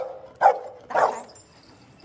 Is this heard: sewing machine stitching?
no